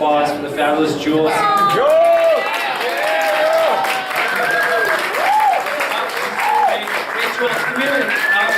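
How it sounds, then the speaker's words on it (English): Loud audience applause and cheering fill a cabaret room after a Broadway-style Valentine's Day performance, sustained throughout with whoops, and a voice talks over the crowd the whole time. "give another round of applause"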